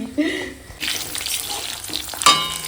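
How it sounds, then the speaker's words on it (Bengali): Cauliflower frying in a pan, a close bubbling sizzle that swells suddenly partway through, with stirring scrapes and a brief metallic clink. "দেখো ফুলকপিটা এরকম হালকা ভাজা হয়ে গেছে"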